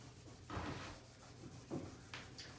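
A wet rag rubs over chalk-painted wooden furniture to distress the finish, giving a few quiet, soft swishing strokes close by with pauses between them.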